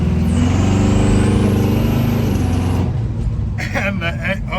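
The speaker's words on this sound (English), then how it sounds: "We did a nice healthy burnout" A truck doing a burnout roars at full revs with a loud, steady engine drone and a high squealing whine, then cuts off into rumbling idle while voices talk over it.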